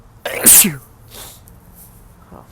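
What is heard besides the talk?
sneeze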